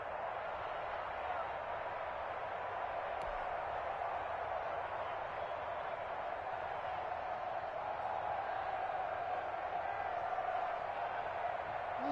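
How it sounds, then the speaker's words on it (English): A stadium crowd roars at a Ravens vs Broncos divisional-round playoff football game ahead of a big third down, a steady dense wall of noise with muffled voices blended in. "the crowd getting into it as we come up on a big 3rd down"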